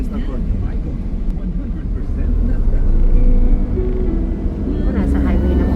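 A car picks up speed on a highway, its engine rumble rising steadily and loud against road noise, while people talk in the cabin over it.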